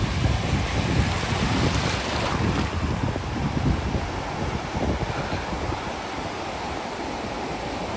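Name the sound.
sea waves at Bakkhali beach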